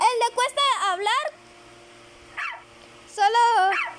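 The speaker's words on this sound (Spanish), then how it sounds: "solo grabé ladridos de perro." A dog barks and yips in short bursts, loud and close, with whimpering tones between, then a pause and another cluster of barks.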